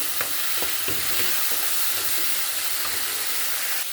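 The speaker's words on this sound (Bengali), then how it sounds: "ধনে পাতা বাটাটা একটু এর সাথে নেড়ে চেড়ে নেবো" Coriander leaf paste being stirred into a fish curry in a pan, a steady, even sizzle with light periodic taps and scrapes of the spoon, close and without speech.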